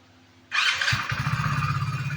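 A motorcycle fitted with a GPS tracker fires up abruptly after a quiet start, then settles into a close, steady, pulsing idle.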